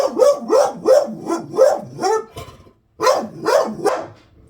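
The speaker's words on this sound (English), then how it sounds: "But there's a dog." A dog barks repeatedly and close by in a quick rhythmic series, about seven loud barks with a short pause midway and a fading final bark.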